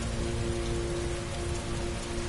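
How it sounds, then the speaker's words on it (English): Heavy rain pours steadily in the Heavy Rain video game, a dense, even wash of drops with a faint low hum beneath, constant and close throughout with no voices. "Heavy rain."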